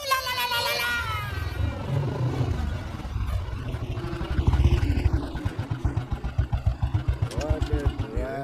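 A motorcycle engine runs close by under overlapping talk, a rough low rumble that settles into a steady, rhythmic idling putter with evenly spaced pulses toward the end as voices continue.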